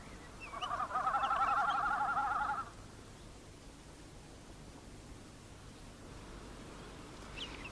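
A male snipe drums over a bog on open moorland in early May, its vibrating tail feathers making a pulsing, bleating hum of about two seconds at a distance, followed by quiet outdoor ambience.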